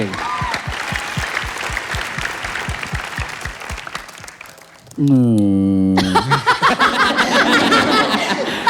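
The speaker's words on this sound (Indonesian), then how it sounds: "boleh tepuk tangan lagi" A talk-show studio audience in Indonesia claps in a brisk, even rhythm that fades away. A sustained sung or toned voice cuts in, followed by a lively crowd with chuckles and clustered applause.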